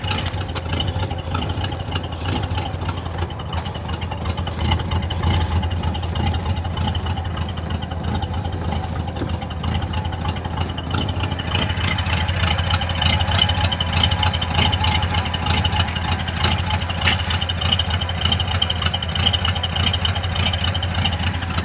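A Chevrolet Monte Carlo idles after its first cold start of spring, fitted with dual exhaust pipes. The engine holds a loud, steady low rumble throughout, growing slightly fuller partway through, with no voices.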